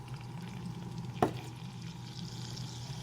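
Half a chopped onion frying in butter in a saucepan over medium heat, a soft steady sizzle with one sharp clack near the middle, no talk.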